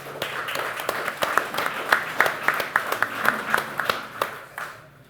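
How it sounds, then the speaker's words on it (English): Audience clapping for the hosts of a craft beer talk event at Founders Brewing in Michigan, a scattered round of hand claps from a modest indoor crowd that thins out and fades to quiet near the end. "a big round of applause to Founders Brewing for hosting us tonight"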